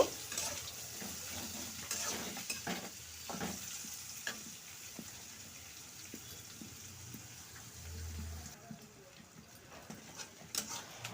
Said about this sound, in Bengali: পেঁয়াজগুলি হালকা ভাজা ভাজা হয়ে এসেছে।